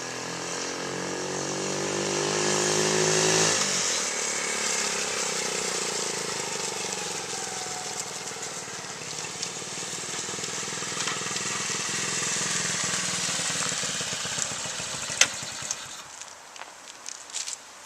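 A 1970 Honda CT70H four-speed motorcycle's small single-cylinder engine starts and idles steadily close by, with a loud opening rev and ragged, sputtering moments toward the end.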